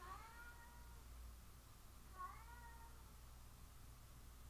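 Two distinct cat meows, a couple of seconds apart, faint and somewhat distant over a constant low hum.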